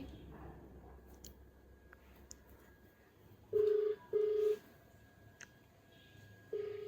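A phone number is keyed in on a telephone, with three loud, steady tones, two in quick succession and a third a moment later, over a quiet room with faint clicks.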